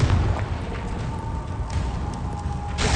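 A Confringo fire-blast spell from the wizarding video game Hogwarts Legacy bursts with a broad, rumbling boom amid continuous noisy combat sounds, loud throughout with a fresh surge near the end.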